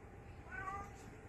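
A cat meows softly once at close range, a short tonal call over a steady low background hum, with no voices present.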